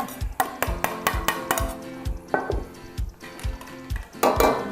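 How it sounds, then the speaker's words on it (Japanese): Garlic, ginger and onion are stir-fried in a pan for Chinese-style basil minced pork, with a rapid run of metallic spatula scrapes and clanks against the pan over a light sizzle, close and busy, with no talk. "でちょっとさっと炒めてね、はい、玉ねぎの甘みをねちょっと出しましょう。"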